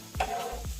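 Ackee and saltfish frying in a pan, a brief stretch of soft sizzling broken by a couple of low knocks as the food is stirred, with nobody speaking.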